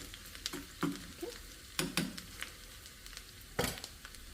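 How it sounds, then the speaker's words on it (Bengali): Chopped garlic fries in a pan under a faint, quiet sizzle, broken by several sharp clinks and scrapes of a utensil stirring at irregular intervals. "একটুখানি চপড রসুন দিয়ে তাকে ভালো করে নেড়ে নিতে হবে"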